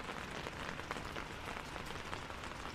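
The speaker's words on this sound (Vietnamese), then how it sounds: "Vâng, đấy có mưa rồi" Steady rain patters densely on surfaces at Silver Waterfall in Sapa during the rainy season, a continuous close hiss of drops with no voices.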